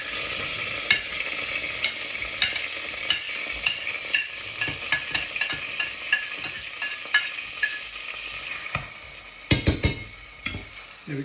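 Onions fry in a pan with fennel seeds for spiced parsnip soup, sizzling steadily while a spoon scrapes and taps against the pan in a regular rhythm. A cluster of louder clatters comes near the end, close up and with no talk.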